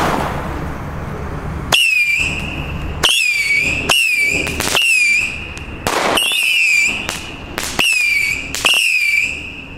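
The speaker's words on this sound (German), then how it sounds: "Jetzt machen wir weiter mit einer Panda Saturn Missile Batterie, also richtig schönes Oldschool Feuerwerk." A Panda Saturn Missile battery fires off a rapid series of whistling shots, each a sharp crack followed by a rising-then-falling shriek, about eight in quick, uneven succession, loud and close.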